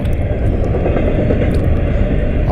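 Train passing at track speed at Callahan Junction, a loud continuous low rumble of wheels on rails close by, steady throughout with no talk.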